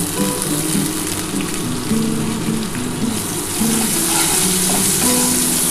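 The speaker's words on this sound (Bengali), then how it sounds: "ভালো করে একটুখানি ভেজে নিই তবে খুব বেশি কিন্তু পেঁয়াজটা ভাজবো না" Onions frying in a pan for a restaurant-style duck egg korma, a continuous close sizzle with light stirring and a faint watery hiss throughout.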